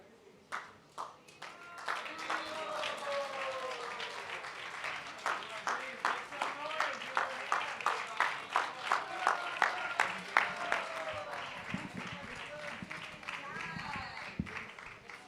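Audience applause at a kirtan festival, a crowd clapping in a steady rhythmic beat that swells and then fades, with voices and some singing running through it.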